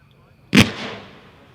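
A single sharp report from a 15-shot slice firework cake with ghost-slice red, white and blue effects, one loud crack followed by a fading rumble of echo, heard outdoors at a fireworks demo.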